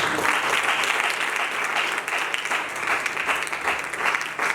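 An audience at a sermon claps loudly and continuously, a thick, sustained burst of applause filling the hall with no voices over it.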